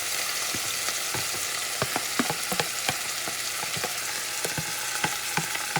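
Garlic sizzles and fries in a pan, a steady close hiss with scattered sharp pops and crackles and occasional stirring knocks.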